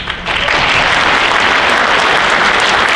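Audience applause for varsity letter winners at a school stadium event, a loud, dense roar of clapping that swells quickly and holds steady.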